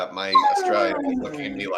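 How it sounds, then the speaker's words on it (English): A pet dog yips and whimpers up close in a home setting, mixed under a person talking over it. "oh, that's a dog."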